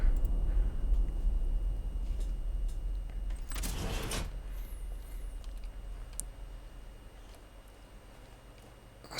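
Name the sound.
door closing in the video game Uru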